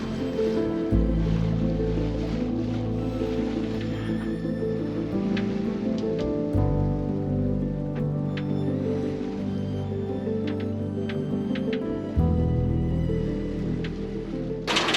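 A sailboat under way at sea off Capri, making about 4.7 to 4.8 knots, with a steady low rumble of hull and water rushing past, occasional splashes and faint creaks, and no voices.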